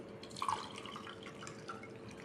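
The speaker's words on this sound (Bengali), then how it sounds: "এখন এই জুসটা আমি ছেঁকে নিব। দেখেন, ছেঁকে নিচ্ছি।" Fruit juice from passion fruit being strained into a glass, faint soft drips and trickles in a quiet indoor room, close and gentle with no voices.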